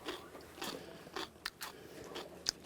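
Several crisp crunching bites and chews into a raw purple potato, close and quiet, with sharp crackles at irregular intervals and no talking.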